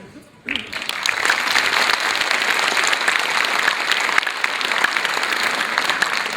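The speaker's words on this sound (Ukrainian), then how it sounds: "не економте на аплодисментах" An audience at a children's concert breaks into sustained applause after a brief quiet start, with dense steady clapping filling the room until the end.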